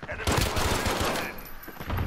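Dense gunfire from Call of Duty: Modern Warfare, a shotgun among rapid overlapping shots, loud and close, with game noise continuing through the burst and a brief lull near the end.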